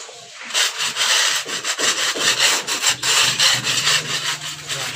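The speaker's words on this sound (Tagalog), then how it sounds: "dito ko yung aking minamasilya" Skim coat putty is spread over an exterior house wall, a rhythmic rough scraping and rubbing of a trowel against the rendered surface, close and steady in repeated strokes.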